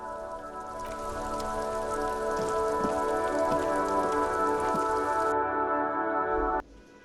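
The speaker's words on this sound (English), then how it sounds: "This rain will not let up anytime soon." Steady rain falls in the noir role-playing game Disco Elysium, a continuous wash over a layered tonal ambient bed that cuts off abruptly near the end.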